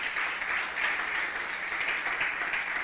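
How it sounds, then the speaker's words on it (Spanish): A church congregation applauds, a dense, steady wash of clapping from many hands that fills the room loudly and continuously for a few seconds, without talk over it. "Fuertes esas palmas al Señor."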